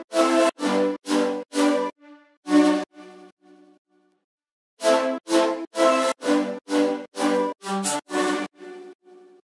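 Synth leads layered together in a remix play bright, choppy stabbed chords in a steady rhythm, pausing briefly midway before the full stack returns, loud and with no voices.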